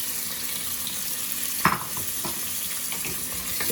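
Half an onion fries in oil with a bay leaf, a low steady sizzle with one brief clatter midway, quiet and close with no talking.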